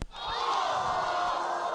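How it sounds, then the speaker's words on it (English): A large crowd gasps and murmurs in shock, a sustained group reaction that swells quickly and holds steady, loud and close, with no clear individual voices. "shocked crowd."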